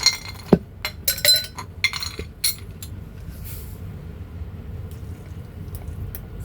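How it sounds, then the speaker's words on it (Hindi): Ice cubes drop into a glass for a blended peach lemonade, making a quick run of bright clinks and clatters early on, then settling into a soft, steady hiss with no speech. "इसमें थोड़ी सी आइस क्यूब्स डालूंगी।"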